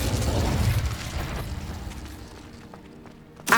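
A fire spell blast in a Harry Potter video game gives a whooshing, roaring burst that fades over about three seconds, followed by a sharp pop at the end.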